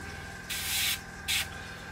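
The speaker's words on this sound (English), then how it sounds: "spraying it up" Two short bursts from an aerosol can lay black paint onto the undercarriage legs of a 1/72 Airfix McDonnell Douglas Phantom FG1 kit, a half-second hiss followed by a shorter puff, close and crisp over a faint background hum.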